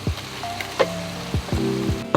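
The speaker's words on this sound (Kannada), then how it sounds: "ನಮ್ ರುಬ್ಕೊಂಡಿರೋ ಮಸಾಲೆ ಹಾಕಾಗಿದೆ" Ground masala paste sizzles in a hot pan of softened tomatoes for a home-style veg kurma, a steady close crackle broken by several sharp scrapes and knocks of a spoon stirring.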